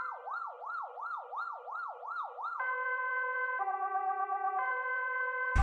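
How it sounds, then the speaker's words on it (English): An ambulance siren sweeps rapidly up and down in a fast wail, then changes to steady alternating two-tone blasts, heard loud and clear with no talking. "Ambulance."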